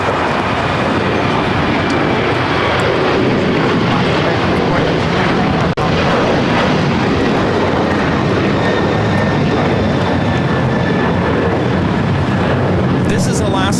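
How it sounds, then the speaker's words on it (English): An Alaska Airlines Boeing 737-900ER takes off at LAX, a dense sustained jet roar dominating throughout, with people talking faintly beneath and a brief click midway. "1348 taking off to Puerto Vallarta on a 737-900ER in the One World livery."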